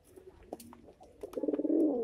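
A pigeon coos close by, a few short soft notes that build into a rolling, throaty coo toward the end, with no other sounds around it.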